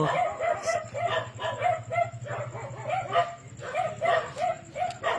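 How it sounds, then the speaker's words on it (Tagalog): Several dogs bark repeatedly in quick bursts, loud and fairly close, with a steady low hum underneath throughout. "pagpasensyahan nyo na lang po yung ingay dito sa amin at medyo madami pong dumadaan na aso"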